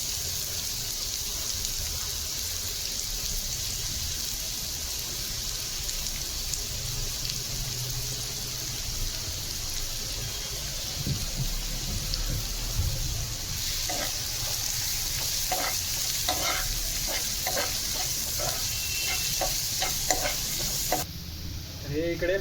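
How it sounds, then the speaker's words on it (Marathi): Finely chopped onion frying and being stirred in a pan, a steady close sizzle with scraping and clinking of the spoon growing busier toward the end, no talking. "हा बारीक चिरलेला आपला कांदा घालूया"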